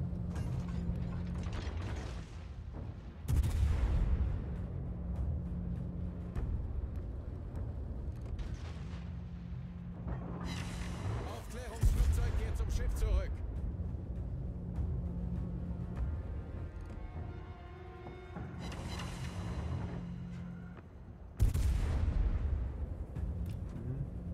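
Kremlin battleship guns in World of Warships fire in a few heavy, booming salvos spaced several seconds apart, with whirring, ratcheting turret machinery grinding between the blasts.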